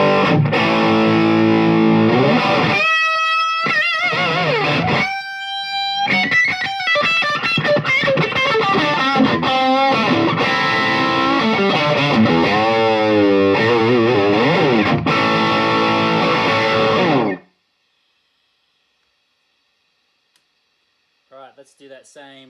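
A heavily distorted electric guitar plays chords and single notes through a Marshall DSL40C amp on its boosted channel, loud and saturated with noticeable white noise, then cuts to near silence with faint clicks.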